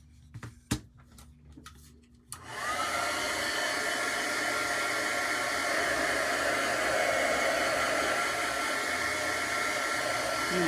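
A hair dryer blows steadily and loudly, drying a Dollar Tree Christmas craft decoration. A few faint knocks come first, then the dryer switches on and runs continuously, close and uninterrupted.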